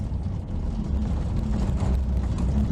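A Suzuki Swift Group N rally car at a rally school slows under braking, its engine a loud, close, steady low rumble with broadband road and mechanical noise throughout; no voices.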